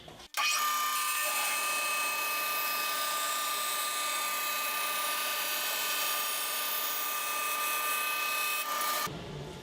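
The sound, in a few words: band saw cutting wooden guitar lining wedge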